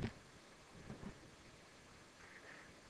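Steady rainfall hisses faintly throughout a rainy map in an XNA role-playing game, with a few soft low rumbles of thunder rolling underneath.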